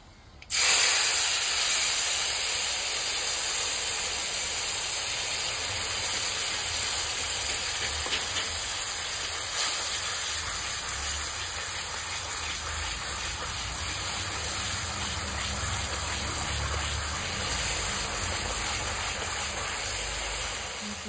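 Turmeric paste hits hot oil in a pan while fish curry is cooked, giving a loud, steady sizzling hiss that sets in sharply and carries on evenly throughout, with no talking.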